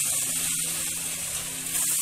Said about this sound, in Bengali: এর মধ্যে আমরা গ্রেট করা পানি ফলটা দিয়ে দিলাম।